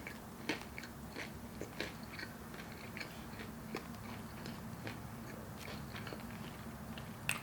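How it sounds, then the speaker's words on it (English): A KFC Cheetos sandwich being chewed close up in soft, steady bites, with faint crunches and a few louder clicks. No one speaks. "So now I'm going to try the Cheetos sandwich"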